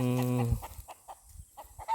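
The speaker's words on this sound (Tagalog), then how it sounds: "tinitira na ng manok yung munggo ko dito guys" A chicken gives a short series of soft, close clucks, with a brief louder vocal burst at the start and quiet pauses between the calls.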